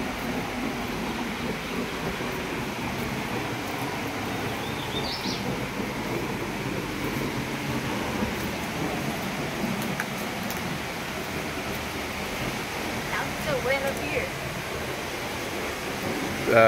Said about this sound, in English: the waterfall's down there. Hear us getting closer to it.